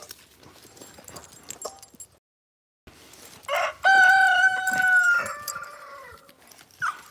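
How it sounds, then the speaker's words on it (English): A rooster crows loudly and close by near a makeshift backyard chicken coop, one long drawn-out call following scattered clucks and rustling, with a brief quiet gap before it. "See the makeshift chicken coop?"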